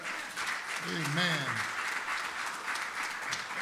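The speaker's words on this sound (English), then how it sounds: "Let's give God one more hand clap of praise" Church congregation clapping hands in praise during a lectureship service, a steady wash of applause throughout with a voice speaking briefly over it near the start.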